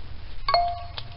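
A phone gives a brief electronic notification chime, two short tones close together, in a quiet room with no talk.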